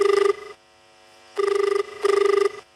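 A telephone rings on a radio phone-in programme: a close, warbling electronic ring in three bursts separated by short gaps, heard alone.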